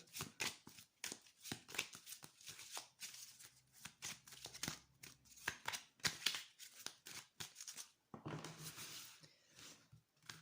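Oracle cards shuffled by hand in rapid, continuous bursts of soft riffling and flicking, close and fairly quiet, with brief pauses and no talking.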